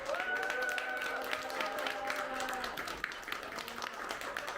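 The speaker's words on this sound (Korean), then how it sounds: "큰 박수와 한호로 우리 최진철 목사님" A church congregation at a first-anniversary revival gathering applauds and cheers to welcome Pastor Choi Jin-cheol, with steady, fairly faint clapping and crowd noise and some tonal sound running underneath.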